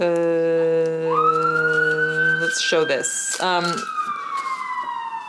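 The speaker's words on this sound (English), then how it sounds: "sorry about the siren in the background." A wailing siren rises and sweeps in pitch in the background, steady and fairly prominent, while a person speaks briefly over it.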